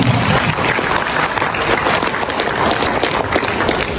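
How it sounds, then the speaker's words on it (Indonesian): A roomful of teachers and staff at a school foundation work meeting and gathering applaud together, a dense, even burst of clapping that holds steady for a few seconds. "Aplaus untuk kita semua."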